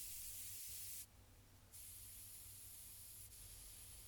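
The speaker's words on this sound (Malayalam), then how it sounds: "അതിലുള്ള പ്രഷറൊക്കെ ഒന്ന് കളയണം" A pressure cooker of beef biryani, taken off the flame, vents its steam in a loud, steady hiss, with one brief drop in force about a second in before the rush resumes.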